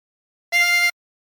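A single draw note on hole 6 of a chromatic harmonica: a clean, reedy tone held steadily for under half a second, close and alone, with silence before and after.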